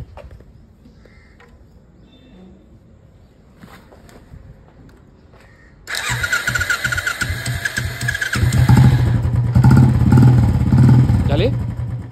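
Motorcycle push-button started after a quiet stretch of faint background sounds: the engine catches abruptly and settles into a loud, close, steady idle and rev, with voices speaking underneath.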